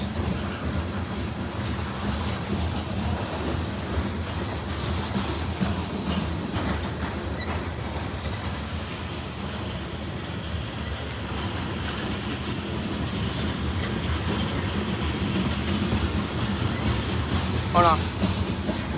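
A CSX freight train with a DPU locomotive passes on the tracks, giving a continuous loud rumble and wheel clatter that lasts the whole span. Voices may be mixed faintly into the noise.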